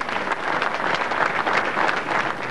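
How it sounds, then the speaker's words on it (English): A crowd outside Westminster Abbey bursts into spontaneous applause during Princess Diana's funeral in 1997: steady, distant clapping from many people, moderately loud and continuous, heard alone. "As inside the Abbey, they broke into spontaneous applause."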